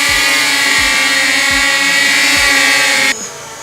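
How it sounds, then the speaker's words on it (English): A drone's propellers give a loud, steady, high-pitched buzz close by, with a faint regular low thump underneath, and the whine drops and eases off near the end. "Drones get their name because they make a drone sound."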